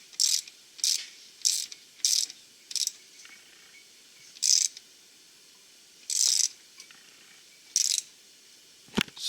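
A hand ratchet tightens the transmission filler cap on a 2001 GMC pickup, with about ten short, crisp clicking bursts separated by quiet pauses, close and distinct.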